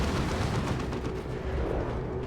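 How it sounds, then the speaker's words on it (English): Grenade barrage in Warhammer 40,000: Dawn of War 2, a dense rumbling wall of overlapping explosions and battle noise, loud and continuous for the whole stretch with no clear gaps. "Plague Marines got close to another shot, but Kadachins said no with their grenade barrage"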